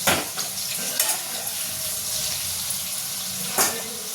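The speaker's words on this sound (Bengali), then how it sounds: "ওটাকেও ধুচ্ছি, একসঙ্গে মাল্টিটাস্কিং চলছে" Raw chicken being washed under running tap water in a home kitchen, a continuous splashing flow with a few sharper splashes and clatters, fairly close, no talk.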